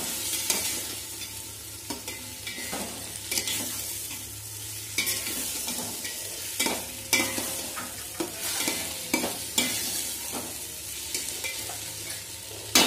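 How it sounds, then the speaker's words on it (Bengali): Rice and lentils frying with spices in a pan for Bengali niramish bhoger khichuri, a steady soft sizzle broken by regular scraping stirs, close and alone with no talk. "টাইম নিয়ে আমি চাল আর ডালটা মশলার সাথে খুব ভালো করে ভেজে নেব"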